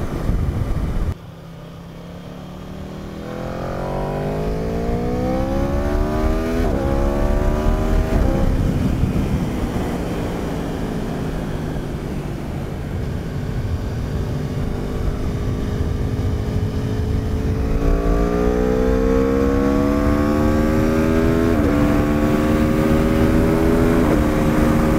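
2018 Aprilia RSV4RR sport motorcycle riding at speed, a loud continuous engine wail rising through the gears with audible upshifts, under heavy wind rush.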